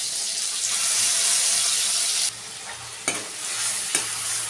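Masala for a village-style fish curry sizzles loudly in a pan while being stirred, a bright continuous hiss that drops briefly midway before returning, with a couple of clinks.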